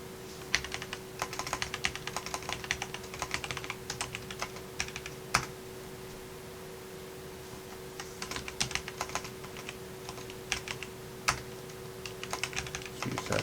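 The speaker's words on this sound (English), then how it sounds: "let's just type in Google" Quiet typing on a computer keyboard, irregular clusters of soft key clicks over a faint steady hum, close by with no talking.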